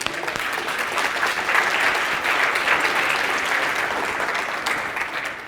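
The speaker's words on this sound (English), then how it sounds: "round of applause" A studio audience applauds a guest, a dense, even wash of clapping from many people that holds steady for several seconds, with a few faint voices underneath.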